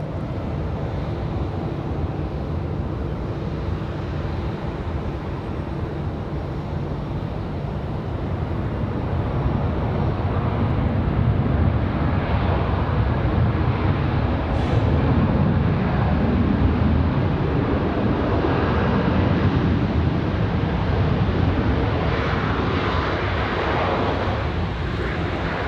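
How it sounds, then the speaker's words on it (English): American Airlines jet arriving from Charlotte at Raleigh-Durham International, a steady distant engine roar that slowly swells and stays broad and rumbling for about twenty-five seconds, with no talking. "Got the arrival of American from Charlotte, American"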